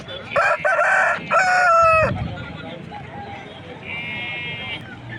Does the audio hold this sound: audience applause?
no